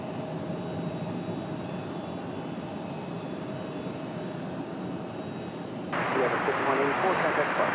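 An Aer Lingus airliner's jet engines roar steadily at Raleigh-Durham International Airport, growing louder and broader near the end, with someone talking over it.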